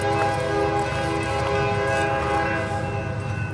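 An eastbound CSX freight train passes close by, its steady rumble and rail noise carrying a sustained multi-tone horn that holds throughout.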